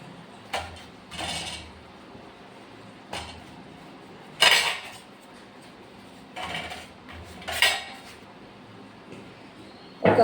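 Steel plates, serving spoons and cutlery clink and knock at intervals as masoor dal cooked with brinjal is served onto a plate at home, with sharp separate clatters close by, sometimes in quick pairs, over a quiet background.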